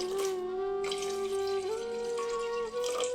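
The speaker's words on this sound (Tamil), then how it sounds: "இப்ப குடலை அடுப்புல வச்சு 2 சொம்பு தண்ணி ஊத்தி" Water from a vessel pours steadily onto goat intestines in a cooking pot on a village stove, a continuous close splashing with a rising pitch as the pot fills, no voices.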